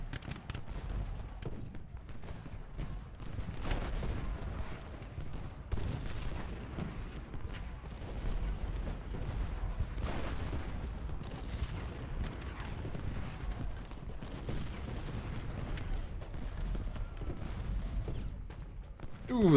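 Cannon firing canister shot in the Ultimate General: Gettysburg battle game, heard as repeated booming blasts and crackling volleys scattered through a continuous din of battle at moderate level.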